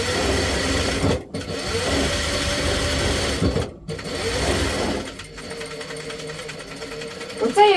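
A sewing machine runs steadily as a garment is stitched and finished, a close, continuous mechanical whirr with a few brief pauses, while someone speaks over it.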